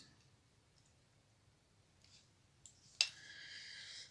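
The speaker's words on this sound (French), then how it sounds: "je viens faire un trou avec mon appareil" A handheld craft punch snaps through folded paper with one sharp click, followed by a brief papery rustle. The sound is faint and close in a quiet room.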